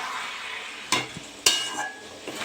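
Chicken pieces sizzling in an oiled pan as they are stirred, a steady frying hiss broken by two sharp spoon clacks against the pan and a few softer scrapes, no voices.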